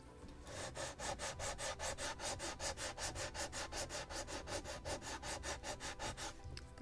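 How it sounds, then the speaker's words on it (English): Sandpaper works back and forth over the wooden planking of a model of the 1776 gunboat Philadelphia, giving a steady run of about two dozen close, loud rasping strokes at an even rhythm, with no voices. "A little more sanding right here."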